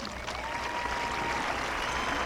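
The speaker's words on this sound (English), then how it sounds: "Again, a round of applause." Audience at a high school graduation ceremony applauding, a dense, steady wash of clapping filling the whole moment.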